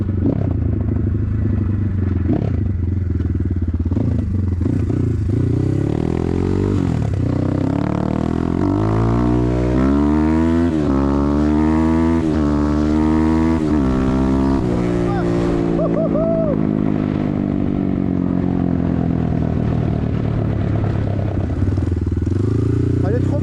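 A BTC T18 motorcycle engine revs and pulls on a ride, its pitch climbing through the gears in rising sweeps with wind rush. A rider talks over it intermittently.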